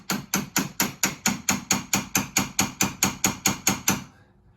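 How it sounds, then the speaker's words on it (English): A hammer strikes a bumper insert into a Kawasaki wave runner in a steady series of about sixteen evenly spaced, sharp knocks, close and loud, with no talking. "I'm gonna hit this in as far as I can get it to go."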